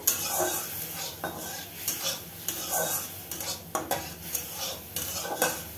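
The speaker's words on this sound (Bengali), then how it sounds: "দিয়ে ভালো করে আমি মাংসটাকে চালিয়ে নেব মশলার সাথে।" Marinated chicken is stirred with spices in a hot pan, a spoon scraping and knocking against the metal in repeated strokes over a continuous sizzle.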